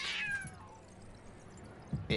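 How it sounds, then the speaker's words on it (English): A cat meows once in the Tower of Fantasy video game, a short, bright, falling cry at the start, followed by quiet and a faint thump near the end. "I think I heard a meow."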